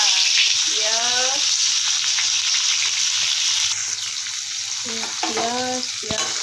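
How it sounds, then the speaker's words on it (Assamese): Steady loud sizzling of onions frying in hot oil in a kadai, continuous throughout, with a voice talking briefly at the start and again near the end. "তেল গৰম হ'ব ধৰিছে, তাতে দিম মই এতিয়া পিঁয়াজ"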